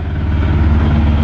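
A Dongfeng ZH1130K single-cylinder diesel engine with a nozzle fault runs at a steady idle close by, a loud, even low-pitched thumping drone with no voices.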